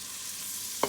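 Onion, pepper and green onions cook on a stovetop with a steady, soft frying hiss, ending in a brief louder clink or scrape right at the close.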